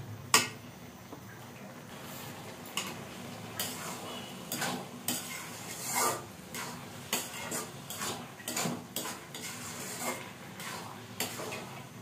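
Thick halwa with sugar melting into it is stirred in a pan on a home stove, with a series of close, quiet scraping strokes of a spoon against the metal in an uneven rhythm.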